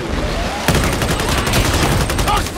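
Rapid gunfire from Warhammer 40,000: Darktide, a dense burst of repeated shots starting partway in and continuing steadily to the end, layered with game effects.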